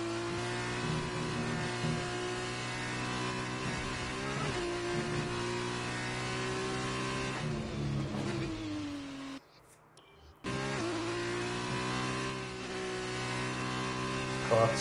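A Formula 1 car engine in F1 2019 revs steadily at high pitch with a buzzing, sustained whine, shifting in tone through gear changes and cutting out briefly near the end before roaring back.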